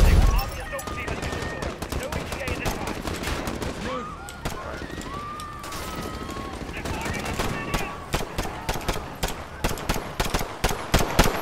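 Sustained automatic gunfire in Modern Warfare 2 crackles in rapid, steady bursts, swelling louder toward the end, with speech heard over it.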